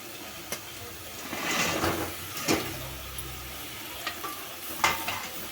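Cauliflower gobi frying in hot oil, with a steady close sizzle and a few sharp scrapes and knocks from stirring.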